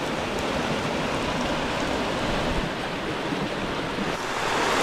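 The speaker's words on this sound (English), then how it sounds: "So much water flooding down there." Heavy water floods down in a constant, dense roar, loud and unbroken from start to finish with no voices.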